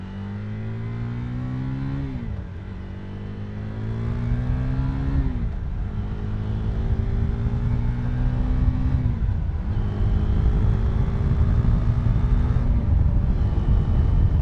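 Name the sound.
motorcycle riding and accelerating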